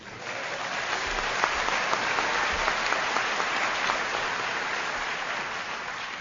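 Sustained audience applause at a sobriety meeting by the sea in Ocean City, Maryland, broad and even clapping from a large crowd lasting several seconds, with no talk over it.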